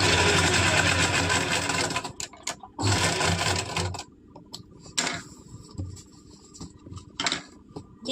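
A sewing machine stitches long basting stitches along the collar of a kurti in short bursts, whirring rapidly for a few seconds at a time with quiet pauses and light clicks between runs.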